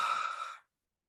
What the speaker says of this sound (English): breathing in for 4, and holding the breath, and out through your mouth